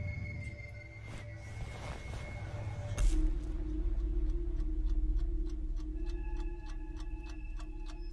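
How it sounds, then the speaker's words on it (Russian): An alarm clock ticks in an animated cartoon, a steady run of crisp, evenly spaced ticks that begins partway through over a low hum and background ambience, close and clear. "И будильник."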